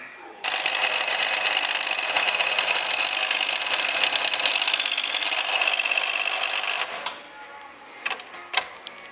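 A mill drill cuts counterbores into a metal part, giving a steady, loud mechanical whine and grinding that runs nearly continuously for about seven seconds before stopping, followed by a few brief clanks.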